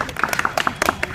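Brief burst of audience applause at a group study session, quick uneven hand claps from several people, close and fairly loud, lasting only a moment.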